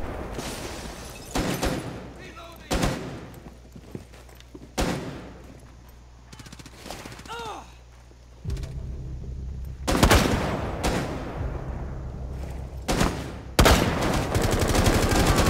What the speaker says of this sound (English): He's on like a mounted machine gun.